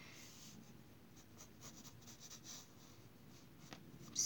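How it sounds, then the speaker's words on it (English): Soft, close scratching of a pencil moving across paper in short, quiet strokes, steady and faint. "if you hear pencils, that's just my pencil"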